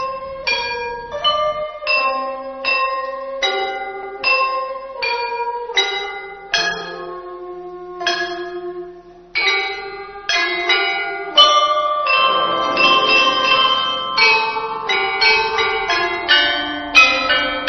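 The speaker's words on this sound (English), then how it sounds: "In the tomb, we found the qing and bianzhong. They're like chimes." Ancient Chinese bianzhong bronze bells and qing stone chimes played in a melodic sequence, each struck note ringing clearly and decaying, with overlapping tones building into denser clusters toward the end.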